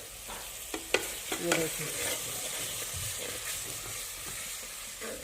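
Chopped chillies and tomatoes frying with onions and masala in a pan, a steady sizzle broken by a few sharp stirring scrapes and clatters early on, with a brief spoken word.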